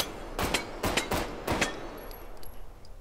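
A Walther PPK pistol fires .380 ACP rounds in a VR game, about four sharp shots in quick succession with a trailing echo, then quiet.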